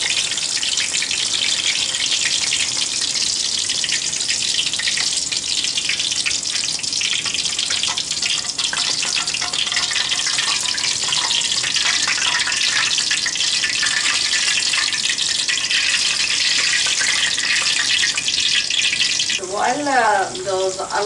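Slices of bottle gourd frying in hot oil for a Kashmiri yakhni dish, giving a steady loud sizzle that hisses continuously throughout, close up, with a brief tonal sound near the end.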